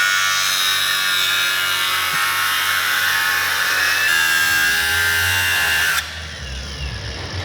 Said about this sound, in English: Let me use the grinder on this side.